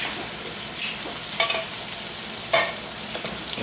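A spoon scrapes and stirs black beans with cream and taco sauce in a sizzling frying pan, with a few sharp scraping strokes over a steady frying hiss.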